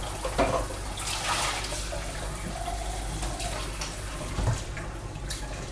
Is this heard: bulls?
no